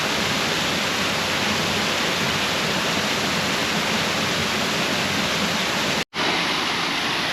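A waterfall on the Cape Naturaliste coast gives a loud, constant roar of rushing water, close and unbroken apart from a momentary cut near the end, with no voices.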